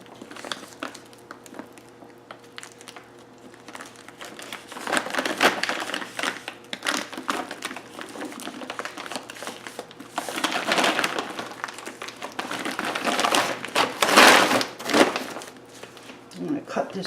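Duct tape being pulled and pressed onto a folded feed bag, irregular crinkly tearing and smoothing bursts at close range, with a person talking throughout.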